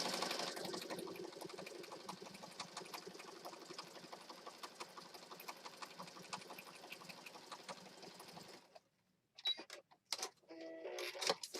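A sewing machine stitches through mixed media papers, gel prints and stamped sheets for a pocket journal, running steadily and close for about eight seconds before stopping, then a few short bursts and rustles follow.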